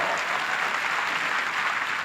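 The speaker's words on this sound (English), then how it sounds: "Give it a round of applause" Audience clapping in a brief burst of steady, moderately loud applause for the Good Friday Agreement, with no talk over it.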